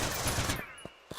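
Gunfire from the top-down shooter game Juicy Realm: a dense burst of rapid shots at first, followed by a few separate sharp pops, loud and close with no talking.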